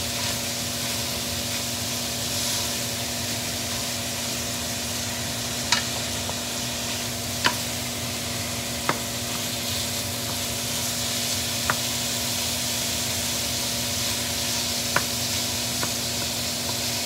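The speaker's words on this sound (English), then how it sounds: "We need to make sure we cook our ground beef guys until the meat is no longer pink." Ground beef cooking in a pan over medium heat gives a steady, dense sizzle and hiss throughout, broken by a handful of small sharp clicks and pops, with no talking.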